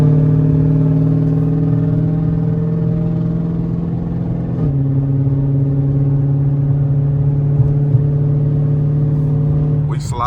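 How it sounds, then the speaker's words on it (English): A car with paddle shifters, driven in early-morning traffic, holds a steady, loud engine drone from inside the cabin, then makes an early upshift partway through that drops the engine pitch before it carries on. "that sound like an early upshift"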